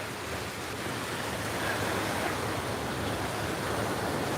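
Ocean waves wash onto Coney Island beach at sunset in a continuous, fairly loud roar of surf with no voices.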